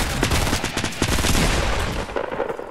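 Rapid bursts of gunfire in Fortnite Battle Royale, loud and close, with clustered sharp shots in quick succession across the whole stretch, tapering slightly near the end.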